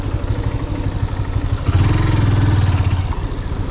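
A motorcycle engine idles close by in a parking area near a Western Ghats trailhead, a steady low throbbing putter that swells briefly midway as the throttle is blipped, then settles back.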